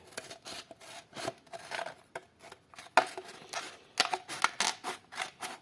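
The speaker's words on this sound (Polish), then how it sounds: "tniemy buteleczkę." Scissors snip repeatedly through a stiff plastic bottle, a series of sharp crisp cuts with short pauses, close and fairly quiet, no voices.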